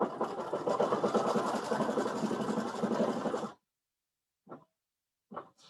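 A Baby Lock IQ Designer embroidery machine stitches with a steady, fast, buzzing mechanical whir for several seconds, then stops abruptly, leaving silence broken by two short faint sounds.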